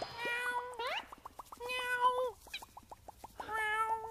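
A cat meows repeatedly, a series of distinct rising and falling meows with short rapid calls in between, close and clear.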